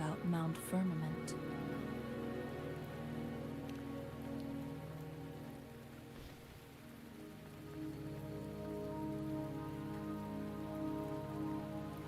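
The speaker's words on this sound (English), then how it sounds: "The rain won't last much longer." Steady rainfall in the game Wuthering Waves, a soft continuous patter on surfaces under a sustained musical drone, with a brief dip midway.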